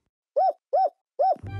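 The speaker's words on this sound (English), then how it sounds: "which of the other hoots sound like this one?" A cartoon horned hoot creature gives three evenly spaced, rounded owl-like hoots, clear and close, followed by a brief musical note as the last hoot ends.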